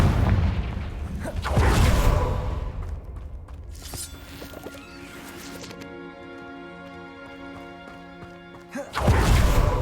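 A Confringo spell blast in Hogwarts Legacy booms loudly at the start, followed by a second heavy impact, a stretch of quieter ringing magical tones, and another big blast at the end.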